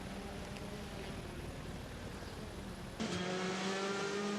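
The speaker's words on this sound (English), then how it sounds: "Gabriele Tarquini on a hot lap in the Castrol Honda around the Circuito do Boa Vista in Porto, Portugal" A Castrol Honda touring car driven by Gabriele Tarquini on a qualifying hot lap around the Circuito da Boavista street circuit in Porto, Portugal, heard as a steady droning engine note that shifts abruptly to a lower, louder tone partway through.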